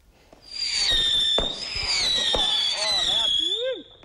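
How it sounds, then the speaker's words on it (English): Fireworks exploding in a backyard, a dense run of crackling bursts and whistling shells that rise and fall for several seconds, loud and close, ending with a couple of sliding whistles. "The sight of bright displays and the sound of shooting explosions in the backyard may soon be left to the past."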